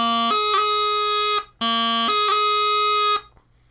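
Two sustained bagpipe phrases of a high G doubling played with a striking F motion, each about a second long with a bright reedy drone-like tone and a short gap between them, loud and alone.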